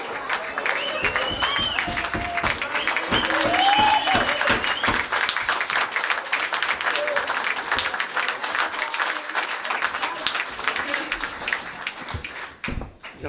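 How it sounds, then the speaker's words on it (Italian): Audience applause at a folk group performance in Lusiana, a steady broadband patter of clapping across the whole stretch with a few voices and whistle-like calls rising over it, fading slightly near the end. "Un applauso finale ai nostri due autori perché già finì in gloria."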